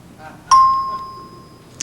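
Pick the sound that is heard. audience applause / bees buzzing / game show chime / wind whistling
game show chime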